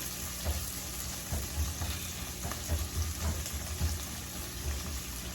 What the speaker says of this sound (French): La première des choses, je veux mettre notre oignon.